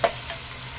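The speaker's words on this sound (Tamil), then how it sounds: "இந்த மாதிரி நல்லா வதக்கிக்கோங்க" Onion and tomato sautéing in a pan for a hotel-style oil brinjal kuzhambu, a soft steady sizzle with a brief stir scrape near the start, close and alone without talk.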